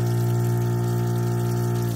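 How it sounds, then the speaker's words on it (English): A small automated sink pump in an SUV camper's rear kitchen hums steadily and loudly at close range, pushing water out of the faucet with a constant drone and no talking. "water drains into the sink, just like that"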